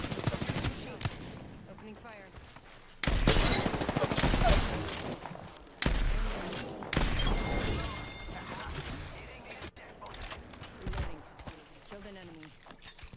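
Bursts of rapid automatic gunfire from a weapon in a video game, loud volleys starting and stopping in separate strings, with a voice talking between and over the shots.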